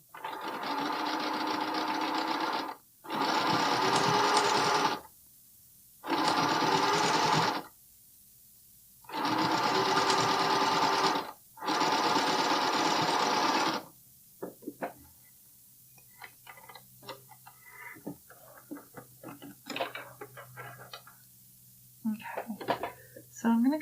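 A sewing machine stitches a bralette in five quick bursts of rapid whirring separated by short pauses, followed by quieter clicks and handling of fabric and tools.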